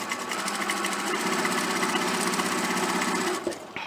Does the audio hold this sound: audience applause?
no